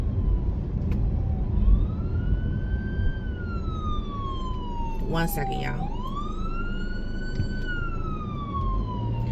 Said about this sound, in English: Where there is sirens, prayerfully there is still life.